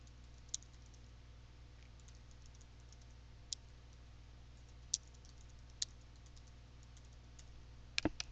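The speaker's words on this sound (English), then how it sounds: "so we'll just type a little something here." Sparse keystrokes on a computer keyboard while entering a short macro description in Excel: a handful of isolated, quiet clicks spaced seconds apart, with a small rapid cluster at the end, over a low steady room hum.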